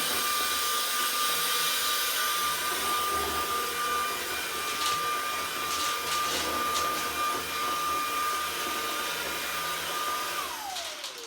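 A Shark IF250UK or Dyson V8 cordless vacuum runs on high power over carpet, a loud steady whine with airy roar that shifts slightly as it moves and winds down at the end.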